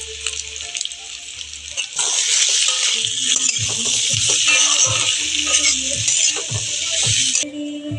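Ginger paste hits a pan of spiced masala for chickpea ghugni: a quieter start, then a loud burst of sizzling at about two seconds that stays steady under repeated stirring scrapes.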